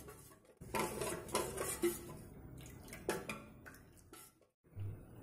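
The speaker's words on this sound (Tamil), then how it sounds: "நம்ம சோள மாவையும் கொஞ்சம் பால் விட்டு கரைச்சி எடுத்துக்கலாம்" Corn flour being stirred into milk in a bowl with a spoon, close and quiet clinks and scrapes of utensil against the bowl in an uneven rhythm, with a short pause near the end.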